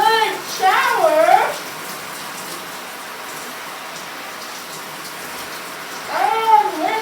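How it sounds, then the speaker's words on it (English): A shower runs steadily with a broad hiss of spraying water, while a voice speaks briefly at the start and again at the end. "This is a very good shower."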